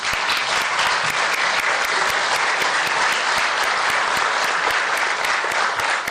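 Audience applause at a book presentation on maritime delimitation with Chile, honoring three members of Congress; a full, even wash of clapping from many hands, loud and unbroken for several seconds.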